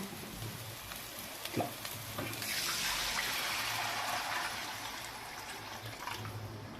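Water poured into a pan of fish curry hits the hot gravy with a sustained hiss and bubbling sizzle that swells and then settles, with no talk over it.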